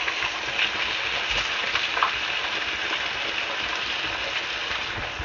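Tofu fries in hot oil in a pan at medium-high heat, producing a steady, dense sizzle and crackle close up, constant in level with small pops, with no talking.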